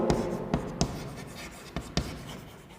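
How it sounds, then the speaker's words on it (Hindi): Chalk or marker writing a lecture topic on a classroom board during a chemistry class, heard as several short, sharp strokes and taps spaced irregularly over a soft background hiss. "अब इसमें जो लिखेंगे अपना टॉपिक"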